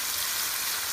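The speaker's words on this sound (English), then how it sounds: "So we are frying them with vegetable oil" Shawarma frying in vegetable oil, a dense steady sizzle close up, continuous hiss with no talking.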